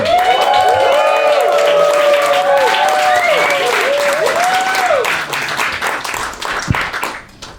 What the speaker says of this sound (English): Let's have a nice round of applause for the very funny Mike Degen.